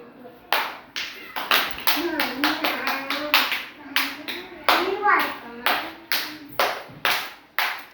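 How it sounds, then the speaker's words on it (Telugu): A group of children clapping their hands in a classroom, loud and close, with irregular bursts of claps and a voice speaking over them. "క్లాప్స్ కొట్టండి రా."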